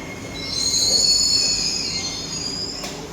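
A Singapore MRT train pulls into a station, its wheels letting out a loud, sustained high squeal that builds and fades as the cars roll past, with no voices.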